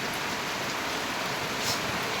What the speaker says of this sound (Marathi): हे बघू बघा कसा पाऊस चालू